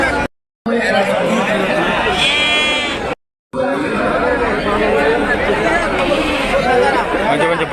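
Sheep and lambs of the Macherla breed bleat repeatedly at a crowded livestock market in Andhra Pradesh, calls overlapping amid steady crowd chatter.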